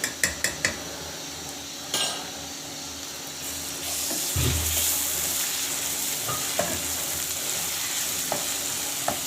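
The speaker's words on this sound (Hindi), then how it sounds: "वन टेबल स्पून भर के जिंजर गार्लिक पेस्ट ले लिया है, इसको भी प्याज़ों में डाल के फ्राई कर लेंगे।" Ginger garlic paste fries with onions in a pan, a steady loud sizzle under stirring, with a few sharp clanks of a utensil against the pot at the start and scattered taps later.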